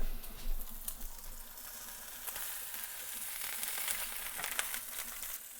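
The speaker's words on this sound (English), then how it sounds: "We're getting some of that, we're getting some of that fat off the bacon." Bacon sizzles and crackles in a pan as its fat renders, giving a steady close hiss with scattered sharp pops and a scrape or two. No voices are heard.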